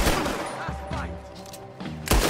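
Gunfire in Red Dead Redemption 2, a quick cluster of shots with thuds, fairly close, mixed in with voices talking.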